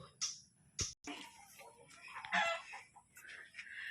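Chickens and hens cluck in a coop at a provincial farm where many birds are laying eggs, a few clear calls close by over a quiet background.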